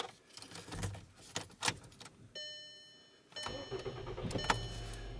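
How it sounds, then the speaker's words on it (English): A VW Rabbit with a P0480 fault and a radiator fan that stays on is started nearby. Keys rattle, a steady chime rings, then the engine cranks briefly and settles into a running idle. "I'm gonna start the engine so we can confirm the complaint."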